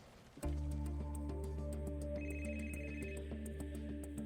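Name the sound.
phone ringing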